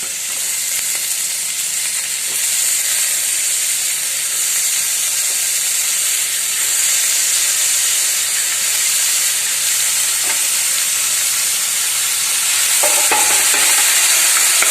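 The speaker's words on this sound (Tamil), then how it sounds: "தக்காளியை போட்டு நல்லா வதக்கணும்" Chopped tomatoes frying in a pan with oil and green chillies, a loud, steady close sizzle and hiss with occasional stirring scrapes throughout.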